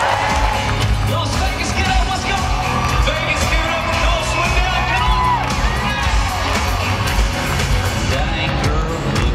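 A large crowd at a country music awards show cheers, whoops and yells in a loud, continuous roar, with scattered shouts rising above the dense wash of noise.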